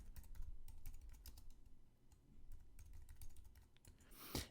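Someone types on a computer keyboard while entering figures into a spreadsheet. The key taps are quiet, rapid and irregular and run throughout, ending in a brief louder rustle. No one speaks.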